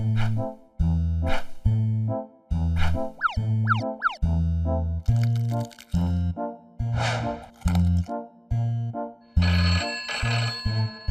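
A bright, musical ringtone plays a repeating melody of short electronic notes, loud and close, with no talking.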